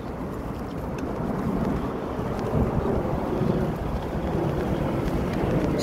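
Strong, dusty, hot wind buffeting the microphone outdoors, a steady low rumble that swells and gusts throughout with no voices.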